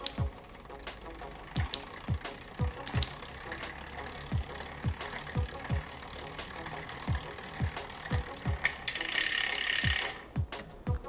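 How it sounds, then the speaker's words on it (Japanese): A Shimano Di2 electronic rear derailleur moves the chain inward across the rear sprockets, with a steady run of crisp, evenly spaced mechanical ticks close by and a short hiss near the end. "シフトスイッチを押して、チェーンを内側へ移動させ"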